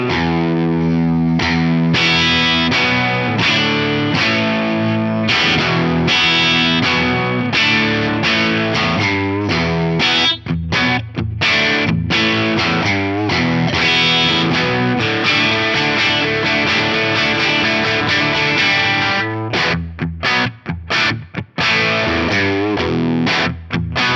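An overdriven electric guitar, a Les Paul through a Marshall amp with both pickups active, plays a continuous riff with strummed chords and single notes, loud and close, with no talking.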